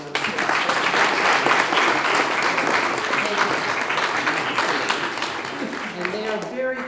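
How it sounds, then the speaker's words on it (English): A college audience applauds former principals who stand to be recognized, steady dense clapping filling the room throughout before a voice begins speaking near the end. "Let's give you a round of applause."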